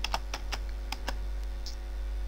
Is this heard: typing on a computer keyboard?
yes